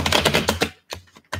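Tarot cards being shuffled up close, giving rapid papery riffling and clicking taps in quick bursts, a short pause, then a few more crisp flicks.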